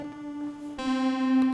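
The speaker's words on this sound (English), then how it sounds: "So here's a chorus and a reverb." A sustained modular synth tone with chorus and reverb effects shimmers with a wide, wavering chorus and a reverb tail, shifting to a brighter note partway through.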